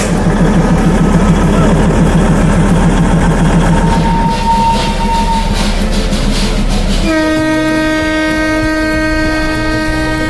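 The Darjeeling toy train engine rumbles steadily at close range at Ghum station, then a sustained, tonal horn-like sound rings out over the engine noise for the last few seconds.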